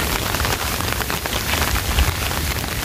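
Heavy rain during a storm pours down steadily in a dense, even hiss of drops striking surfaces nearby, with no voices over it.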